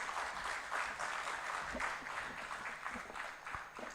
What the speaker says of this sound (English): let's once again, with a big round of applause,